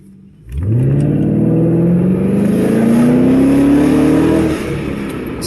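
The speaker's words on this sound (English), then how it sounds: "you can really hear the air intake open up" A Lincoln Town Car fitted with an AFE cold air intake and throttle body spacer accelerates hard, its engine note rising steadily in pitch for about four seconds as the intake roars, then easing off.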